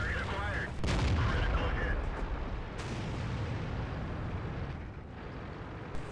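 Tank cannon blasts and rumbling battle noise in the World of Tanks video game, loud booming reports early on over a steady engine and combat rumble, with someone talking throughout.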